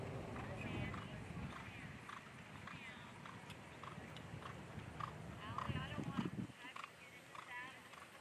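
Horses canter around an arena during a long stirrup equitation final, their hoofbeats a soft, steady drumming at a distance, with voices speaking over them throughout.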